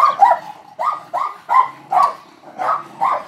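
A dog barks repeatedly at close range, about eight sharp, evenly spaced barks in a steady rhythm.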